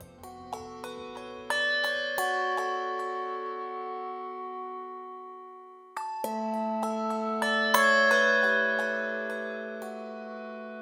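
Handbells are struck at quiet, medium and loud strengths, each strike leaving a clear ringing tone that decays slowly. Several overlapping notes ring, and a louder second group of strikes comes midway. The sound is close and alone, with no talk.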